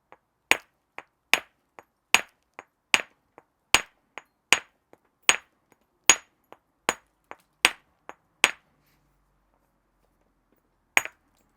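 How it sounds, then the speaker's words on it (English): A hammerstone strikes a flint nodule while a handaxe is being knapped, giving about a dozen sharp, close knocks at a steady pace with short gaps between them, then a pause and one final blow. "Need my bigger hammerstone for that."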